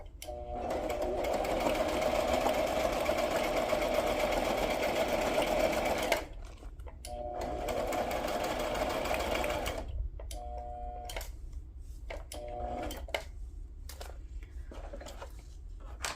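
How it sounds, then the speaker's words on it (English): A sewing machine stitches through a flip-flop for a journal base, running in long loud steady bursts, then stopping and restarting in several short runs toward the end, with no talk over it. "The thing with these flip-flops, especially when I start trying to sew it,"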